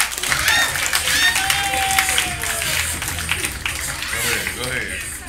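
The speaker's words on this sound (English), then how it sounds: "Start clapping right now for Dylan Kendrick" A comedy club audience claps and cheers as a comedian comes to the stage, with dense sustained applause and whoops mixed with a host's shouting voice.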